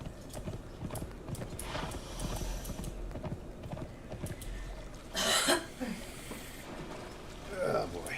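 Horse hooves clop in a steady galloping rhythm in the video game Conan Age of War, faint under someone talking, with a few louder splashy bursts.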